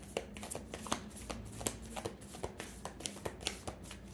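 A deck of tarot cards is shuffled by hand, a close, quiet run of rapid papery riffles and soft slaps in an uneven rhythm.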